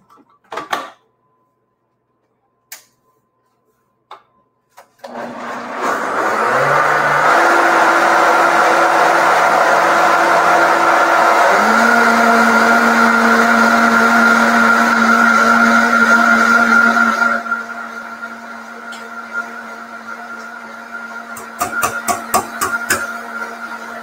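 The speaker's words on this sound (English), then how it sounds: "I'm going to put this on the blender." A blender whirs loudly and steadily for about twelve seconds, blending fat, milk, tofu and flavorings, its pitch shifting as the speed changes. A few sharp clicks and knocks come before it starts and after it stops.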